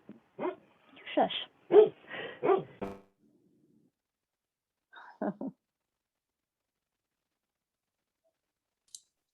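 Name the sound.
dogs barking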